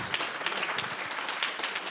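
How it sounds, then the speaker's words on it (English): An audience applauds a world premiere performance at a live music event, a dense, even wash of clapping that holds steady throughout with no voices over it. "Another round of applause for that world premiere"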